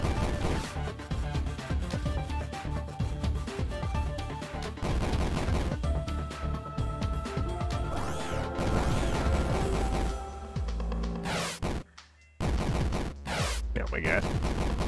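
Rapid bursts of gunfire ring out in the video game Dash Hale, dense repeated shots and impacts over a music bed, with a short near-silent gap before firing resumes.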